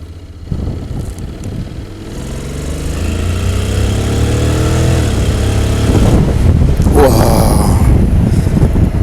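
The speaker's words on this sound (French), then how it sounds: "Ah, il a vraiment une bonne accélération." Honda X-ADV 2017 scooter engine revving up under acceleration, a rising engine tone with steady wind rush over the microphone that grows louder toward the end.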